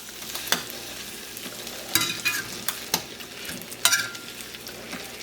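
Breaded chicken legs sizzle and crackle in a frying pan, a steady quiet fry broken by a few sharp clicks and scrapes as the pieces are moved and turned.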